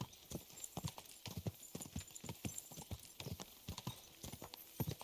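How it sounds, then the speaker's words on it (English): Horse hooves clip-clop in the medieval open-world game Kingdom Come: Deliverance II, a crisp, evenly paced series of hoofbeats heard clearly and fairly close, with no talking over them. "There's somebody on the horse there."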